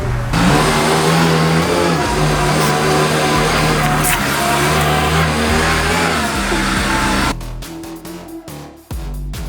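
A forklift engine runs loudly and steadily at close range, revving up before cutting off abruptly, followed by a few scattered knocks and clatters.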